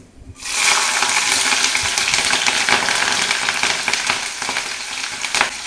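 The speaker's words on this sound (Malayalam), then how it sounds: "അപ്പോൾ കടുക് ഇട്ട്, കടുക് പൊട്ടിക്കഴിഞ്ഞ് ഇച്ചിരി വേപ്പില ഇടാം." Mustard seeds spluttering and popping in hot oil in a pan while gooseberry pickle is being made, a steady loud crackling sizzle that starts suddenly and runs on with scattered sharper pops and no talk.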